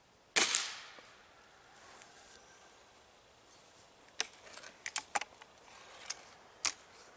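Air rifle shot from a Gamo Swarm Maxxim: one sharp, loud crack near the start, followed by a run of quieter clicks and taps from handling the gun, with no talking.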